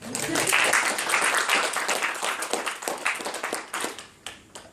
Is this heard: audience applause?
yes